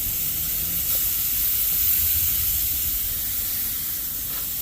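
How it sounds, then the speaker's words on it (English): Chicken sizzles loudly on a grill, a dense, continuous crackling hiss that stays even from start to finish, with no voices. "Hear that sizzle?"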